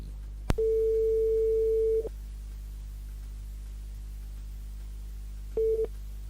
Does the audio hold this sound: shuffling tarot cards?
no